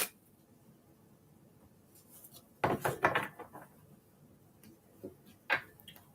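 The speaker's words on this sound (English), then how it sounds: "So I want to give it a couple good shuffles." Tarot cards of the Universal Tarot deck shuffled in a couple of quick bursts, a close, soft riffling clatter in short clusters followed by a lighter flick, with quiet room tone between.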